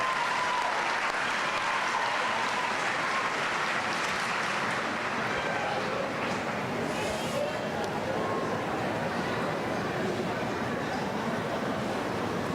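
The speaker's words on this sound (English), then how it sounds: "give them a big round of applause" Large graduation ceremony audience applauding continuously, a dense steady wash of clapping that fills the hall for the whole stretch without letting up.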